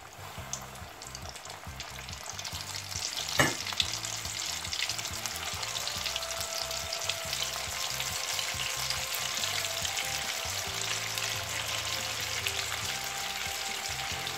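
Steady, loud sizzling of popcorn chicken frying in hot oil over medium heat, a dense crackling hiss that continues throughout with one sharp clatter early on.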